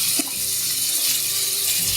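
Raw prawns tumble into a hot kadhai for a home-style prawn curry, setting off a steady, close hiss of sizzling oil with a sharp initial splash, continuing without talk.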